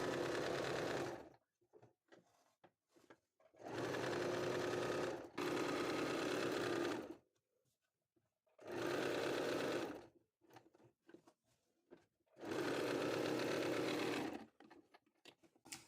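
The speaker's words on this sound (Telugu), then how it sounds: "ఇప్పుడు ఈ లైనింగ్ని మెయిన్ క్లాత్ని అటాచ్ చేసేయండి ఒక స్టిచ్ వేసేయండి" Sewing machine stitching a lining to the main cloth of a kurti, running in four or five steady whirring bursts of a second or two each, with quiet pauses between them.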